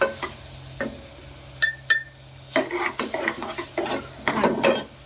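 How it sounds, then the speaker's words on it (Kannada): Tomato rice with masala powders is stirred in a metal pot, giving a series of scraping, clinking utensil strokes that grow busier and denser over a few seconds. "ಈಗ ಸ್ಟಿರ್ ಮಾಡ್ಬೇಕು ನೀಟಾಗಿ"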